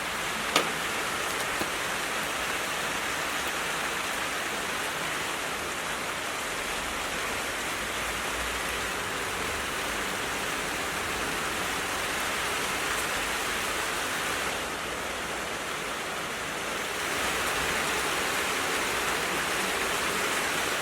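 Warm rain falls steadily outdoors, making a dense, even hiss that continues unbroken for about twenty seconds with only slight swells in intensity and no talking.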